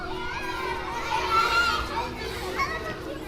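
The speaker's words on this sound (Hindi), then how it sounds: "कि बच्चों का शोर, सीटी और तालियां सुनाई देने लगी।" A group of children shouts and plays outdoors nearby, their high voices overlapping in lively, excited bursts for a few seconds.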